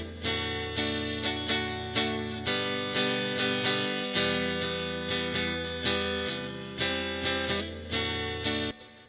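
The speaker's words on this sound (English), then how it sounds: "the lead is pretty interesting because it adds a lot more reverb and delay" Sustained electric guitar lead with chords ringing out in a wash of reverb and echoing delay, each strum swelling and trailing off, loud and alone.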